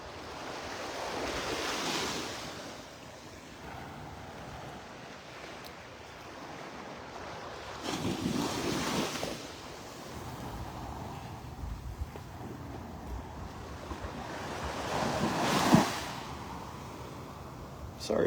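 Waves and wind on Vanderbilt Beach in North Naples, Florida, with surf washing in and surging in several swells, a soft steady wind rush between them, close and moderate in level.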